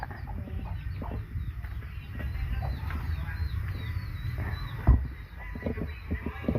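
Small chickens cluck softly and repeatedly at close range, with a sharp knock partway through and quiet ambient noise around them.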